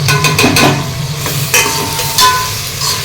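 Tomatoes sautéing in oil with turmeric, garam masala and chili powder for a chicken gravy, giving a steady close sizzle with scraping stirs throughout.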